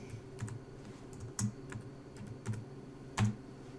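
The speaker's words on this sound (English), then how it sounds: "I'll just type that in." Keys tapped on a computer keyboard as a measurement is entered into CabWriter cabinet design software, a short run of light clicks with a few louder, sharper strikes, close and clear with no talking.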